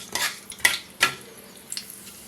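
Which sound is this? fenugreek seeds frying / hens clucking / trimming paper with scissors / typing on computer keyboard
fenugreek seeds frying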